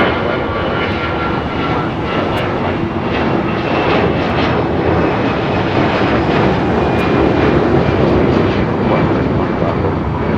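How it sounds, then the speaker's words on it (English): An American Airlines Airbus A319 departing Los Angeles International Airport from the south side makes a loud, continuous jet roar that holds steady and close throughout, with faint voices underneath. "Also up American Airlines flight 2546 heading to Mexico City. It's an A319. It's our next departure here on the south side."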